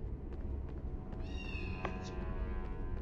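A cat meowing in the video game Harry Potter and the Philosopher's Stone on PS1, one drawn-out, rising then falling meow heard clearly over a steady, noisy game background.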